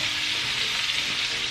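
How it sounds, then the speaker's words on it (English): Vegetable stir fry sizzles in a small frying pan, a loud, steady, close hiss of frying that runs unbroken with no voices. "It's like a big old stir fry in a really small frying pan."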